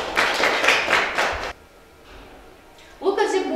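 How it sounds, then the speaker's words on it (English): Students in an English class clap their hands in a dense burst lasting about a second and a half, followed by near silence and then a voice speaking. "Clap your hands"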